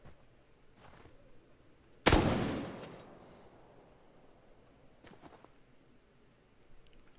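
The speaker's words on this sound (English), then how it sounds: "Lots of fireworks." A single loud firework-like bang bursts out in the survival game Rust, crackling and fading over about a second, with a couple of faint distant pops afterward.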